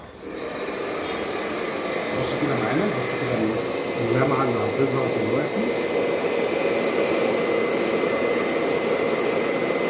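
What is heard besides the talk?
hot hair dryer blowing on hair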